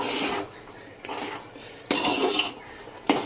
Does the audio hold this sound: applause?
no